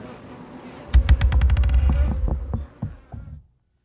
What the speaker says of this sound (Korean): 그때 갑자기 날파리 떼들이 날아들었어요.